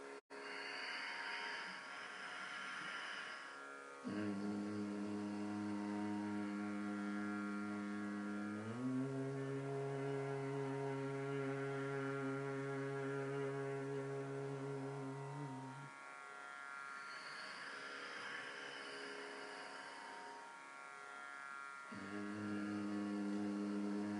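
Deep sustained humming of Om without the word, part of a yoga sound therapy exercise; long steady tones held for several seconds each, with a brief pause between breaths, close and fairly strong.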